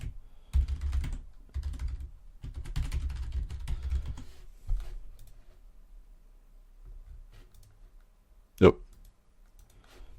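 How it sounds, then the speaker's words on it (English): Typing on a computer keyboard while filling in a web form: soft, quick key clicks in bursts over a few seconds, then quiet, with one sharper click near the end. "we could simply just type in Wayne"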